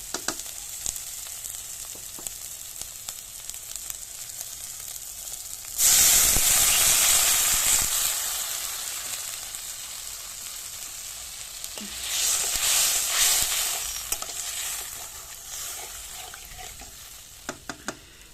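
Water hits hot oil and fried spices, erupting into a loud hissing sizzle that slowly settles, followed by a second burst of spitting and stirring scrapes, without any talking.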